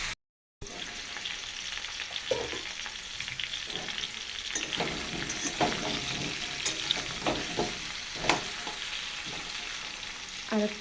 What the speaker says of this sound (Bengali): তো চলো এঁচোড়টা ভেজে নিই